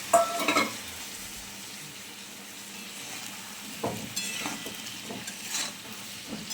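Vegetables frying in a pan with turmeric, cumin powder and salt produce a soft, constant sizzle, broken by spoon scrapes and stirring bursts at the start and again toward the end, with no voices.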